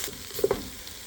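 Vegetables stirred and cooking in a pan for chicken and dumplings, a brief close sizzle with a couple of soft scraping stir sounds.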